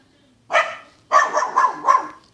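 A person imitates a dog barking in a Minecraft parody: one short woof, then a pause and three quick barks in a row, close and loud with no other sound.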